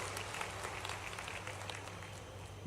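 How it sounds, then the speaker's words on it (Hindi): Crowd at a political rally clapping for their MP and MLA, a steady, fairly distant wash of applause with no breaks. "दोनों के लिए जोरदार ताली बजाओ,"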